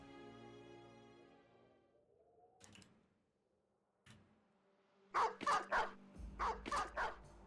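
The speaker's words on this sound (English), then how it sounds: "We are up against the big dogs, the warhounds." Big warhounds in the video game Battle Brothers bark in a series of sharp, loud yelps and barks, coming in quick bursts after a quieter stretch of game sounds.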